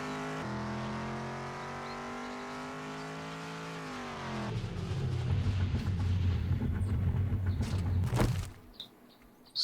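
Supercharged modded vehicle in 7 Days to Die revving with a rising engine whine, then a loud rough roar as it accelerates, cutting off abruptly near the end.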